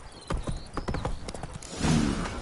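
Horse hooves clip-clop at a quick gallop in The Witcher 3, with a run of sharp, close thuds and a brief neigh-like sound near the end.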